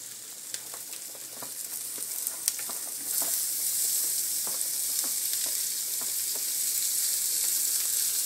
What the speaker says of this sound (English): go ahead and stir and start that saute